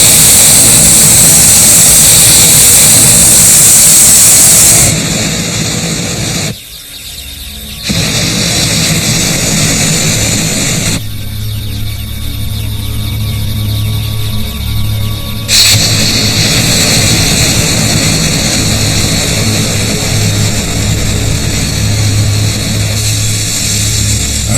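A light aircraft engine drones at a steady, loud, close level through a climb in the evening over Texas, with a few shifts in tone as the sound changes.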